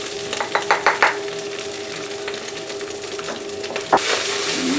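Chopped meat sizzles steadily in a hot pan for hot dog sauce while a utensil stirs it, with a few soft scraping knocks near the start and one sharper clink near the end. The frying hiss stays loud and continuous, and no one speaks.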